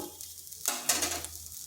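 Red lentils fry with spices in a pan, a low hiss swelling into a brief burst of sizzling as the mixture is stirred.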